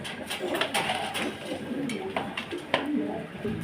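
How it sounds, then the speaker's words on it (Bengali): Mukhsel pigeons at a farm coo in repeated soft, throaty calls, close and fairly loud over a steady background hum, with no speech. "ডাকানিতে ব্যস্ত রয়েছে মোরাসেল কবিতর"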